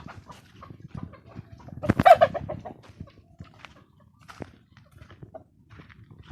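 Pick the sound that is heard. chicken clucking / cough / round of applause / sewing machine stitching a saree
chicken clucking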